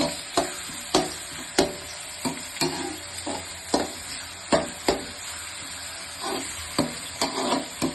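Ingredients for a bachelor-style fish curry sautéing in a pan, a constant sizzle broken by regular, sharp scrapes of a spoon stirring roughly every half second to second.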